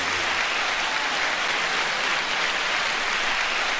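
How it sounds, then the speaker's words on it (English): Sustained applause fills the space, a dense, even wash of many clapping hands that stays constant in loudness from start to finish with no voices on top. "9-second applause."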